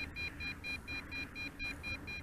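A Helifar B3 brushless GPS quadcopter drone flying too far away gives a steady run of short, high electronic warning beeps. They repeat in quick regular pulses, loud and continuous over a low rumbling background.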